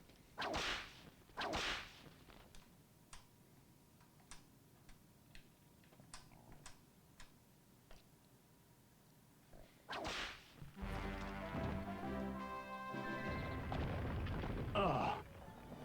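Sharp whip cracks from an Indiana Jones video game, a couple of loud snaps early on followed by a run of light ticking hits, then a busier burst of game action noise near the end.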